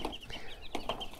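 Backyard chickens raised from an incubator on an off-grid tiny-house homestead cluck softly with short, repeated calls. The sound is faint and fairly distant, with no speech.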